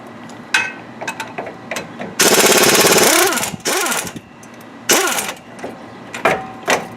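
Rapid pneumatic hammering on the front hub of a 2001 Chevy 1500HD comes in loud, close bursts of a second or so, separated by single sharp metallic knocks.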